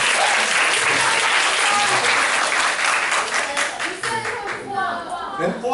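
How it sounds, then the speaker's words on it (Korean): A seminar audience in a lecture hall bursts into applause, dense clapping at full strength for several seconds before thinning out near the end, with voices mixed in underneath. "박수 한번 쳐주실래요?"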